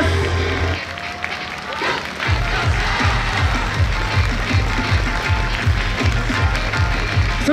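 Big crowd at an outdoor festival stage awards ceremony claps in sustained, loud applause, with a pounding bass beat of music kicking in partway through and carrying on beneath it.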